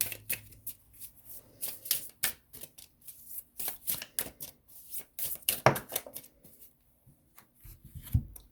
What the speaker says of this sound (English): so now we're going to go into the Pining Rose Volume 2, Twin Flame Ascension cards by Calico Moon